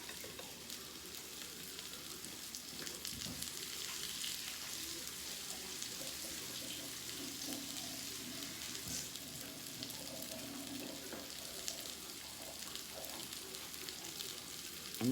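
Beef tips browning in a hot pan give off a steady, dense sizzle and crackle, with faint stirring scrapes throughout and no talking.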